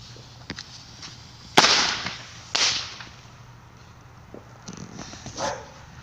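Consumer fireworks fired from a launcher outdoors at night for an 8th of July celebration, with two sharp cracking bursts followed by fizzing tails and a fainter later pop, heard at moderate distance over a low steady hum.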